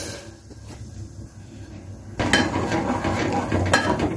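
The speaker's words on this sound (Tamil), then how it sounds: "ஜவ்வரிசி வேகிற வர நல்லா கிண்டி விட்டுக்கிடுங்க, ஏன்னா அது கட்டி பிடிச்சிடும்" A utensil stirs sago boiling in water in a metal pot, with clinking and scraping against the pot that grows louder and busier midway, close by, with no talk.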